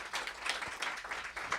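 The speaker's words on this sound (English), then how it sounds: "So I would like to request a round of applause for such a beautiful opportunity" Audience applause at a memorial prize celebration, a steady wash of many hands clapping together that holds evenly for the whole short stretch with no voices on top.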